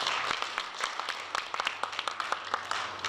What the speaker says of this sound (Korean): 세 분께 다시 한번 큰 박수